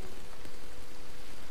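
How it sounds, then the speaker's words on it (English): Hail pelting down in the video game Starbound, a steady, dense hiss of small impacts with a few louder ticks, continuous and fairly loud throughout with no talking. "Oh, there's the hail."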